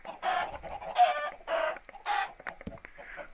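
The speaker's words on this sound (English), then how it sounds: "you've got your chickens in your field" Several Minecraft chickens cluck in short, bursty calls one after another, close and fairly loud, with a few sharp clicks in between.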